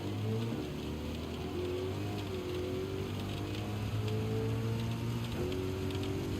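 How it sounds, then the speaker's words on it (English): Heavy torrential rain drums steadily in a racing video game, a dense continuous wash over a low engine drone with shifting tonal hums throughout. "Wow, look at that torrential rain."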